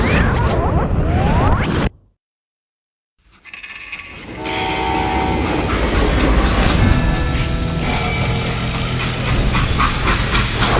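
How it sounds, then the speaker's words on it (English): A freight train in the Western shooter Call of Juarez: Gunslinger rumbles loudly after a brief silence, with heavy rolling wheels, clanking cars and a horn or whistle blaring above the steady roar. "They hopped a freight train,"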